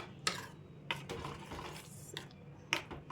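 Semiya payasam with cardamom is stirred in a pot, giving a few sharp metal clinks of a spoon against the rim between softer scraping and swishing, close and fairly quiet.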